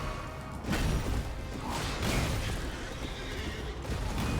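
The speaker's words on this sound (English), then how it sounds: "Horse is like breakdancing." A horse whinnies in the Elden Ring video game, set against a dense, steady wash of game background noise and effects, with a couple of louder swells and no talk over it.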